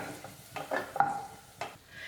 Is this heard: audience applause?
no